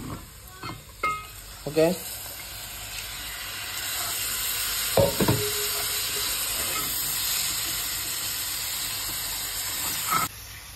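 Liver frying in a pan with ginger garlic paste gives a steady hiss and sizzle with occasional stirring clatter, a few short spoken words near the start.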